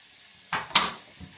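Chopped tomato goes into a pan for spaghetti sauce, giving two quick close clattering scrapes of a utensil against the pan with a soft sizzle, then a faint tap.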